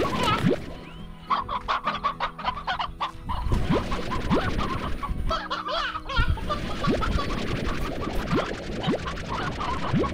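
Chickens cluck and scratch in Slime Rancher, a busy flock chattering continuously with overlapping clucks at close range and no talk.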